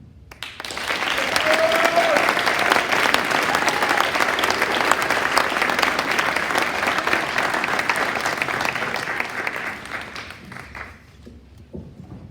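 A graduation audience at an eighth-grade ceremony gives a long, steady round of applause, loud and even for about ten seconds before tapering off, with a faint voice briefly audible beneath the clapping.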